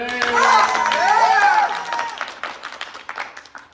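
Audience applause and light cheering during a comedic stage reading of Macbeth, moderately loud and thinning into scattered claps, with voices talking and laughing over it.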